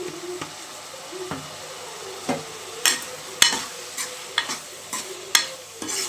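Tomatoes with turmeric fry in a pan with a soft, steady sizzle, punctuated by repeated sharp scrapes and clinks of a spoon stirring, close and fairly quiet.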